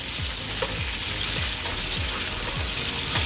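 Prawns frying in a pan for a malai curry, a steady, close sizzle of hot oil with soft stirring scrapes repeating every half second or so, no voices.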